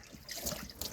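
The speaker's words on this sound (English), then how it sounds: "Foot water pump system." Water runs from a foot-operated pump system inside a converted bus in brief, faint trickles and splashes, with a couple of slightly stronger spurts near the end.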